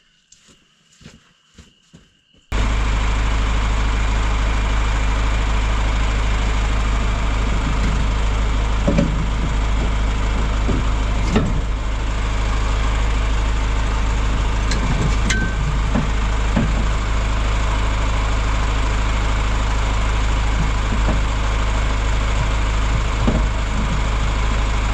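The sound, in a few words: tractor engine running while going uphill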